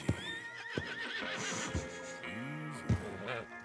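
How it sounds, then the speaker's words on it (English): Horses whinny and neigh repeatedly in Red Dead Redemption 2, with sharp hoof thuds and some clip-clop against a busy game soundscape, calls rising and falling up close. "Marston, you're gonna tether him up to Javier's horse."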